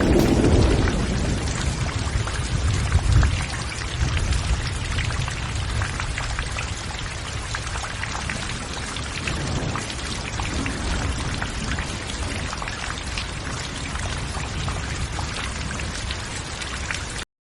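Steady rain pours down in a continuous hiss with a denser patter of raindrops in the first few seconds, then settles into an even, moderately loud downpour throughout; no voices.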